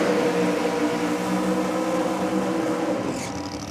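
Anthony Bull's Ford Falcon drag racing car, running in Top Sportsman, roars with a loud, sustained engine note that stays strong and close before easing slightly at the end.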